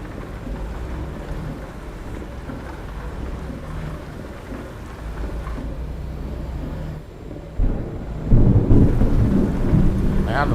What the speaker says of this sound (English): Now the thunder's gonna start rolling.